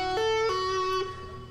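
Clean electric guitar plays a short pentatonic arpeggio figure, with picked notes followed by a smooth hammer-on and pull-off, each note ringing clearly and alone.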